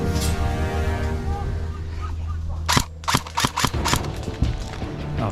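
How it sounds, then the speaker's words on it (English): Airsoft guns fire during an airsoft game: a burst of sharp, closely spaced cracks in the second half, loud and near, with a few separate shots after, over steady outdoor background noise. "Where are you getting shot from, Scott?"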